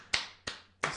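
Three sharp hand claps, evenly spaced and close, each with a short ringing decay, given as a round of applause for GE with no talking over them.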